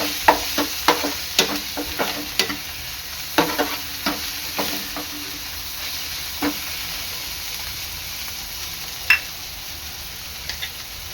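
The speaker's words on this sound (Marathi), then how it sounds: "तर ह्यामध्ये टाकायचं आलं लसूण पेस्ट मिक्स करून घ्यायचं आहे" A spoon stirs ginger-garlic paste into mixed vegetables and softened onion frying in a pan, making a steady sizzle under a series of sharp scraping clatters that thin out after the first half.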